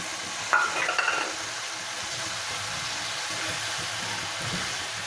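Minced meat frying with tomatoes in a pan for shimla mirch qeema, a brief burst of stirring and scraping near the start settling into a steady, soft sizzle with no voices.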